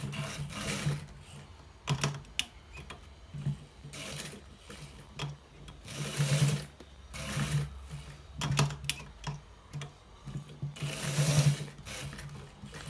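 A sewing machine stitches a designer shirt collar in short, rhythmic bursts of whirring and clatter with brief pauses between runs, close by and fairly quiet, with no voices.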